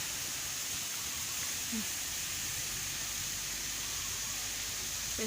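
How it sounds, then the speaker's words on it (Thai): A waterfall at Wat Noen Krabok temple in Thailand gives a steady, dense rushing hiss that fills the whole stretch evenly, with faint incidental sounds. "น้ำตกงามค่ะจ้ะ"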